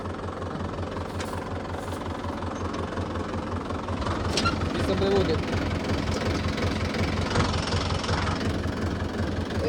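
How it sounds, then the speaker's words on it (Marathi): A tractor engine rumbles steadily at idle, loud and close, growing slightly louder partway through, while someone speaks briefly over it during wheat sowing. "मी आता ट्रॅक्टर मध्ये बसलो"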